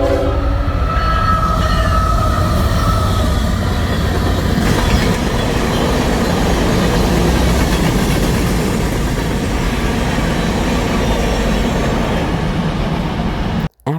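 Train passing by on a vacation trip, a loud, close, continuous roar of rail cars rolling past with rumbling wheels and clattering, steady for the whole stretch before cutting off abruptly.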